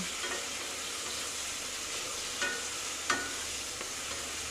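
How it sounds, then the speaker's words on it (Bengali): Ridge gourd with ginger stirred and sautéed over a high flame, a steady sizzle broken by occasional spatula scrapes against the pan, no one speaking. "এটাকে একটু কষিয়ে আদার কাঁচা গন্ধটাকে বের করে দিতে হবে"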